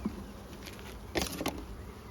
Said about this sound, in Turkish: Arkadaşlar karnıyol bu arı